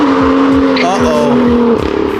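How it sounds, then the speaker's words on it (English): Lamborghini Aventador pulling up close at Monterey Car Week, a loud engine tone holding steady and then cutting out, with a voice talking over it. "I think an Aventador just pulled up."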